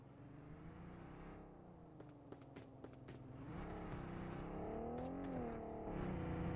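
Car driving in PUBG Mobile on the Erangel map, the engine droning steadily and rising in pitch as it speeds up, with a few clicks and taps over the hum, fairly close and continuous.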